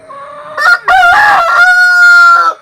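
A rooster among country chickens at a home coop crows loudly and up close, a long ringing cock-a-doodle-doo following a short clucking burst, with no voices.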